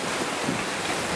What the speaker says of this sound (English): So the waves are just going a little faster than we are.